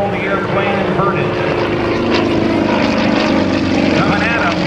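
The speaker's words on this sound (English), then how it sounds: "Approaching show center, Harvey Meek will half-roll the airplane inverted." Propeller aerobatic airplane at a Blue Angels homecoming airshow, flown by the Aerostars team while it half-rolls inverted near show center; a steady, loud engine drone runs throughout, with a public-address announcer talking over it.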